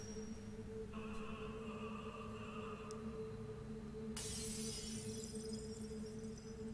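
Glass shatters in the video game Child of Light, a bright crashing burst that breaks in sharply over a steady, faint game hum and then trails off in a fizzing scatter.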